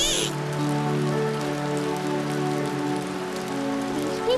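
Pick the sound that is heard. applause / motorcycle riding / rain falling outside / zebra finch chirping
rain falling outside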